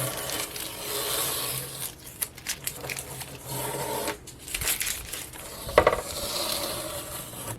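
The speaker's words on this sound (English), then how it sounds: "now that everything is dry, let's go ahead and take off the painter's tape" Painter's tape being peeled off a freshly painted summer sign, a close, continuous scratchy rasping and rustling with a few sharper tearing pulls and taps along the way.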